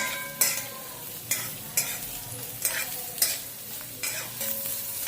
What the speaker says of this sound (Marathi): तेल टाकलेलं आहे कांदा टाकूया कांदा छान परतून घेऊया